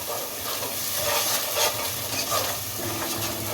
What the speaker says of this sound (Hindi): अब इसको इसके साथ अच्छे तरीके से भून लें मसाले को।